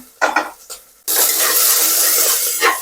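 Ginger, garlic and green chilli sautéing with onion in a pan for mutton bone soup: after a few quiet utensil clinks, a loud, steady hiss of frying starts abruptly and holds close and continuous.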